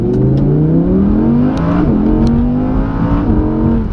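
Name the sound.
2017 Audi R8 V10 launching from standstill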